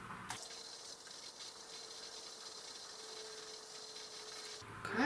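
Oat milk mixture pours into a thick straining bag, a steady soft liquid rush and rubbing of fabric lasting several seconds, close and fairly quiet, ending with a brief handling clatter.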